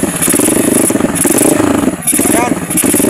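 A Honda XR200 motorcycle with a weak battery and starter relay trouble runs close and loud, its engine a steady rough drone throughout, with a voice speaking over it.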